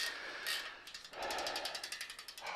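A Rolf bicycle wheel on a 2001 Trek 5200 road bike spins freely, its freehub ratchet giving a rapid, even run of close metallic clicks that steadies into a regular ticking rhythm.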